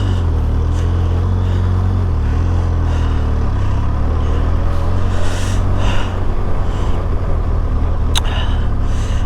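Motorcycle engine running off-road on soft ground near trees, a loud steady low drone with wind buffeting over it and slight surges toward the end as the wheel slips.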